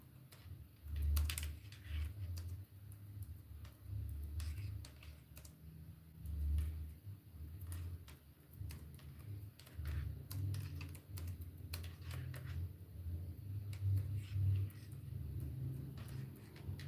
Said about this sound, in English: I was typing for myself.